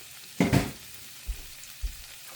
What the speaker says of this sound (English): I'm gonna fry up some hamburger real fast